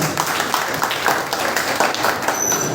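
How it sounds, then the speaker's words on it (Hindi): A Teachers' Day audience claps for a teacher, Girija Prasad, with dense, continuous applause from many hands at moderate loudness, a brief whistle-like tone near the end. "तो एक बार हमारे आदरणीय गिरिजा प्रसाद सर जी के लिए जोरदार तालियां हो जाए।"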